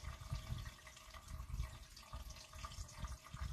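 Water pours steadily into a betta sorority aquarium tank being set up with plants, a continuous low splashing and gurgling rush heard up close with no talking.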